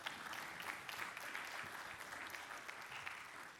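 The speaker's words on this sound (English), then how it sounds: "A round of applause, please." Conference audience applauding at the close of an industrial stormwater runoff talk, a steady, dense wash of clapping held at even strength throughout with no voices.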